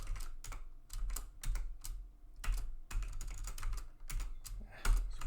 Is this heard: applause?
no